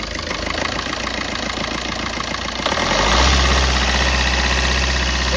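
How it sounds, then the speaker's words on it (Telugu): A 2019 Maruti Suzuki Swift Dzire Tour diesel taxi engine, air conditioning on, idles with a steady knocking rumble, then revs up to about 2000 rpm and holds a louder, even drone close by, with no talking. "ఏసీ ఆన్ చేసి రేస్ చేయండి. ఒక 2000 ఆర్పిఎం"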